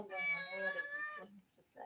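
A mother cat meows once in a long drawn-out, complaining cry, close and clear, followed by a softer short mew.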